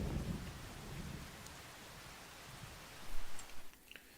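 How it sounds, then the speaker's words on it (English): Steady rain with low rumbling thunder in a Farming Simulator 25 storm, a continuous hiss under a deep roll that swells near the end. "When's the rain going to stop again?"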